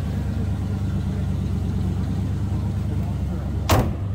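A 1969 Cadillac Fleetwood Series 60 luxury sedan with a stock exhaust idles with a low, steady engine rumble, followed near the end by a single brief sharp knock.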